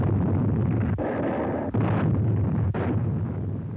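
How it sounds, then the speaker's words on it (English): Naval guns bombard Mount Suribachi on Iwo Jima in a dense, continuous rumble of artillery, with several heavier booming blasts rising out of the roar. "Mount Suribachi, which dominated the island, was a prime target for Navy gunners."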